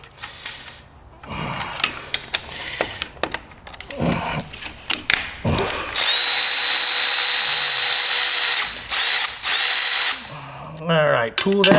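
Impact wrench with a wobble socket working on a Peterbilt 389 while changing the top radiator hose, loud close bursts of hammering rattle and a long sustained run, broken by short pauses and clanks.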